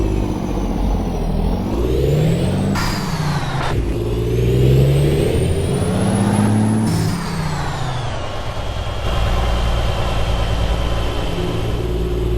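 A chipped 610 hp Cummins N14 truck engine in American Truck Simulator drones steadily and loudly throughout, its pitch rising and falling with gear changes and throttle, with an air-brake hiss partway through and no talking.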